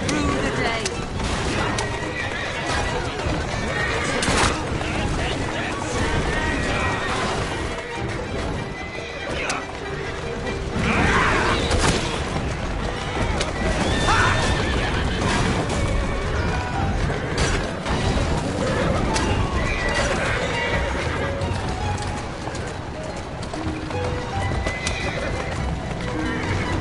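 Horses neighing and carriage hooves clip-clopping in Assassin's Creed Syndicate, continuous loud clatter of hooves and rattling wheels with whinnies, and voices speaking over it.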